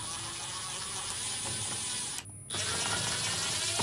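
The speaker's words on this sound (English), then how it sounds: "we'll next remove the two Phillips screws here and here on the" A Phillips screw is backed out of the rear of a Fisher & Paykel washing machine control panel, giving a quiet, steady ratcheting whir close by, broken by a brief pause before resuming.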